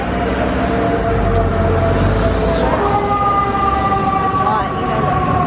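Fire truck siren on a busy New York City street, a steady wailing tone over heavy traffic rumble and engine noise, with people talking nearby throughout.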